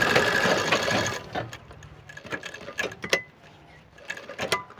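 A sewing machine stitches a chain pocket onto a petticoat in a dense, steady burst for about a second. It then gives way to quieter, scattered handling clicks and brief mechanical taps.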